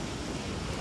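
Sea waves wash steadily against a rocky shore at Shrivardhan, a dense, even roar of surf with no individual breaks standing out in this brief moment.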